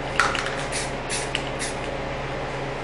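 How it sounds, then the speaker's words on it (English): Short bursts of hissing spray come close up, a few separate puffs over a faint background hum. "Just a nice light spray."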